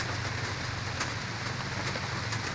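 Liquid leaf fertilizer sprayed onto plants during the rainy season, a steady close hiss of fine spray running without pause and masking everything else.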